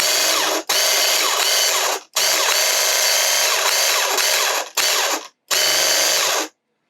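Graco Ultra QuickShot airless sprayer pump running cleaner through the pump and gun, a loud, close, harsh mechanical buzz in four long bursts separated by short silences.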